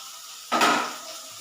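Onions and green and dried chillies dropped into a hot pan for pasta, a sudden sizzling burst that starts midway, then gradually softens into a quieter hiss.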